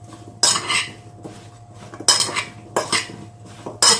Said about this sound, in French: Donc là vous mélangez bien votre préparation.